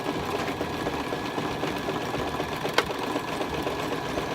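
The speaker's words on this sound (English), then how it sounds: "I'm going to hit my backward stitch and backwards zigzag all the way back up to the top" A sewing machine stitches a backward zigzag through paper, a steady close whirring hum with a light rhythmic patter running without pause.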